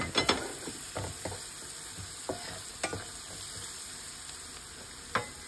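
Garlic fries briefly in a pan while fish stew is being prepared, giving a soft, steady sizzle, with a few spoon stirs and taps against the pan standing out above it.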